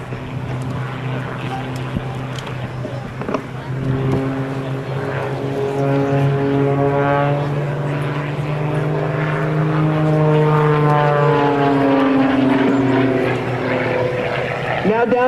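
A propeller airplane flown by Wyche Coleman performs a side slide at the 2004 Rhode Island Air National Guard open house airshow, its engine droning loudly with a rising and falling pitch as it passes, while an announcer talks over it.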